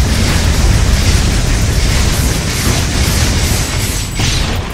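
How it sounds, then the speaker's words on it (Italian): Grenade blasts in the superhero video game inFamous, heard as a dense, loud roar of booming explosions that rumble continuously for nearly five seconds, with no voices. "Ste granate sono la cosa peggiore di Kessler, devo essere sincero"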